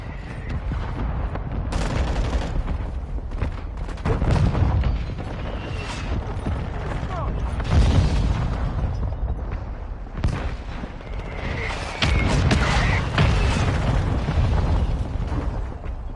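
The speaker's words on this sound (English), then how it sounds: "Friendly mortar strike on." Heavy explosions from mortar strikes in Modern Warfare 2 pound repeatedly over constant gunfire, with loud booms landing around 4, 8, 10 and 12 seconds amid a dense, chaotic battle din.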